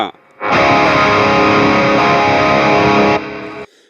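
A loud, sustained burst of heavily distorted electric guitar rings for about three seconds, then cuts off abruptly.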